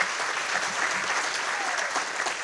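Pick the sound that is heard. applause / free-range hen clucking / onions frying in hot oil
applause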